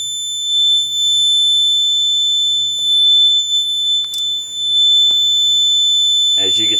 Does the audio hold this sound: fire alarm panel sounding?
yes